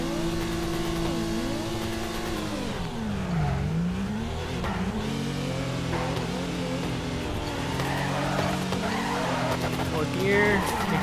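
A drifting car in the PC game Torque Drift, its engine revving up and down in wavering pitch sweeps with tire squeal, loud and continuous while someone talks over it.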